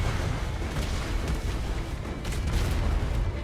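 Mortar fire from a ship in a naval video game: a dense, continuous rumble of booming blasts with several sharper bursts layered over a heavy low roar, loud and close.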